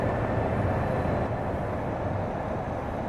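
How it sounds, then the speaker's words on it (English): High-speed train at Reggio Emilia AV Mediopadana station, a broad, steady rushing roar of rail noise, loud and continuous, with no speech. "The MTV is the high speed train"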